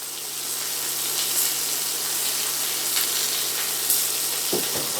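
Steady sizzling of crispy-coated chicken livers frying in a hot pan, constant crackle close by, with a few light clinks near the end.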